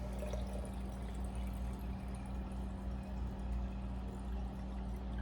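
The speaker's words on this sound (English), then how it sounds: "So now we're just going to add our water." Boiled and cooled water pours steadily into a jar of beet kvass, a faint continuous trickling splash over low background hum.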